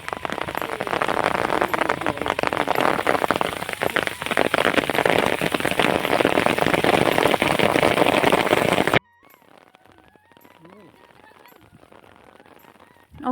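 Steady, dense monsoon rain patters loudly on a surface in a village for several seconds, then cuts away to a much quieter scene with faint, scattered sounds.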